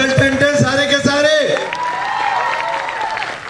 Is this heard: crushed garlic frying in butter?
no